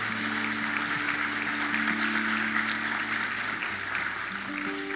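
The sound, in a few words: congregation applauding in church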